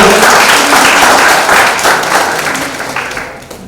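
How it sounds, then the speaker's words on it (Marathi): Audience applause at a prize-giving ceremony for a debate and elocution competition, a dense, steady wash of many hands clapping close and loud, slowly thinning toward the end. "जोरदार टाळ्या वाजवा."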